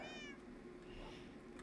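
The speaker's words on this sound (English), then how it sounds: "My cat! Look, it understands." A pet cat gives a single short, faint meow at the start, followed by quiet background noise for the rest of the moment.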